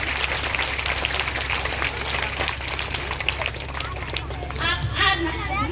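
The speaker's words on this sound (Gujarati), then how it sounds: "બધા આપણે તાળી પરથી સન્માન કરીએ" At a public event distributing free school kits to students, an audience gives a sustained round of clapping and cheering in honour of a guest, with crowd voices and chatter mixed through the applause.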